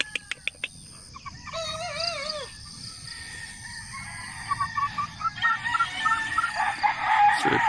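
Several young roosters crow in turn in a backyard gamefowl pen, wavering calls rising and falling, then overlapping clucks and crowing that grow louder and busier toward the end, with no talking.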